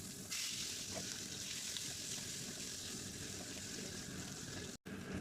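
Chopped onion and garlic frying in oil in a pot, a dense, even hiss of sizzling that runs throughout at close range, cut by a brief gap near the end.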